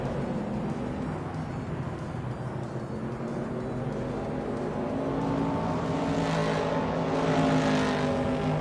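Vintage Trans Am race cars, including a 1968 Dodge Dart, racing: a steady, loud engine drone with layered revving tones that swells slightly toward the end as cars press close together.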